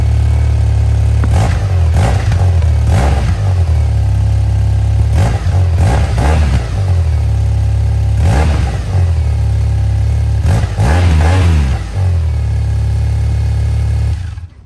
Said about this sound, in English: this engine definitely has a kick to it, like most of the boxer engines